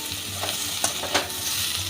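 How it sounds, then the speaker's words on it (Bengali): Pumpkin curry masala with Kashmiri chili powder, salt and two slit green chillies frying in a pan, a steady close sizzle with a couple of brief stirring scrapes. "কাশ্মীরি লঙ্কা দিয়েও আমি একটু"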